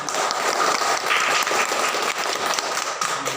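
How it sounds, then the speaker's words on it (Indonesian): Classroom applause for a student discussion group, a fairly quiet, steady patter of hands clapping together that continues for a few seconds and dips briefly partway through. "Iya, tepuk tangan untuk kelompok 1."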